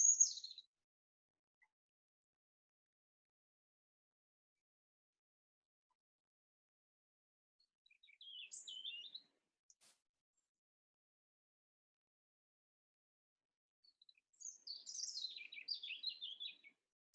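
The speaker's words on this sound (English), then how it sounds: "Here's the robin song." European robin singing in a garden: short silvery, liquid phrases of high warbling notes, one brief burst at the start, another midway, and a longer rippling phrase near the end, separated by long silences.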